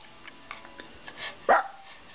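A single short puppy bark rings out close by after a few faint soft sounds, then the room falls quiet.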